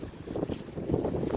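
Wind buffeting a microphone outdoors during a street meal of a hunter-style hot dog, a steady low rumbling roar with gusty swells throughout, no voices over it.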